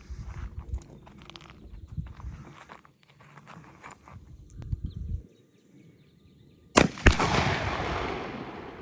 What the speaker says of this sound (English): we're gonna go ahead and shoot this custom home load, 40 yards, factory Winchester choke tube.